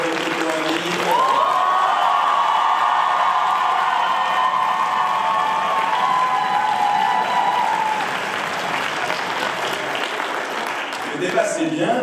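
A debate-competition audience in Lille applauds loudly and steadily for about seven seconds, with a sustained shouted or whistled note riding over the clapping before it thins out and a voice returns at the end.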